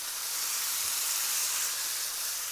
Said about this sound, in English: you can probably hear the sizzle